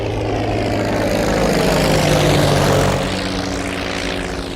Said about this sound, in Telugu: ఏదేమైనా ఫస్ట్ టైం ప్రైవేట్ ఫ్లైట్ ఎక్కినందుకు చాలా హ్యాపీగా ఉందిరా